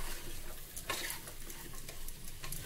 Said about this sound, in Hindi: मसाला अच्छे से भून गया है